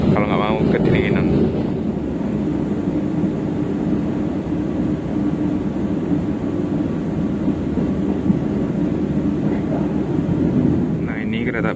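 A Mutiara Timur economy-class train runs along with a steady, dense rumble and heavy wind buffeting on the microphone throughout, loud and unbroken, with faint voices now and then.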